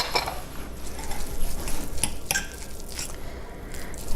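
Chicken salad gets scraped and stirred in a bowl with a utensil, giving soft wet squishes and a few bright clinks against the dish, close and fairly quiet, with no talking.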